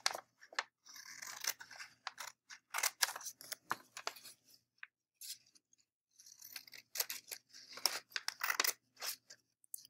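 Scissors cut a paper handout into individual flaps, giving close, crisp snips in quick bursts separated by short pauses of near silence.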